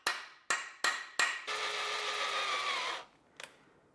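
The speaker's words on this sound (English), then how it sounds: "I will try to make a hole with a punch." Several sharp metallic hammer blows drive a punch into a stripped oil pan bolt on a BMW 335i N54 engine, four quick strikes followed by a sustained harsh grinding scrape, then one last faint tap.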